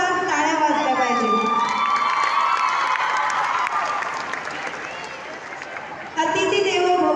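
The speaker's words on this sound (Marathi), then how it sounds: "जोरदार टाळ्या वाजल्या पाहिजे." An audience at a women's festival event bursts into loud, sustained applause and cheering with whoops and children's shouts, a dense crowd roar filling the whole stretch.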